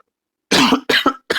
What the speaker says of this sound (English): I've been coughing too much in these 3 days.